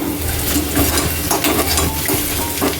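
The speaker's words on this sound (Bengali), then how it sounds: "ভেজে রাখা মাছের মাথাগুলো দিয়ে দিচ্ছি।" Fried catla fish heads dropped into a hot pan with cumin powder, setting off a loud, dense sizzle that holds steady with faint clinks of a utensil against the pan.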